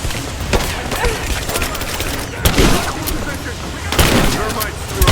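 Dense gunfire in the video game Rise of the Tomb Raider, with bursts and heavy impacts over a continuous rumbling battle bed, loud and close, as voices shout in the midst of the fighting.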